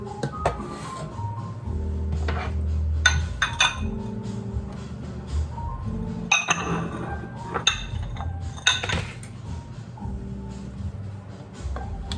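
Thick banana bread batter scraped and spooned into a baking pan, with repeated clinks and knocks of a utensil against the pan and bowl in an irregular rhythm, close and fairly loud, with brief faint talk.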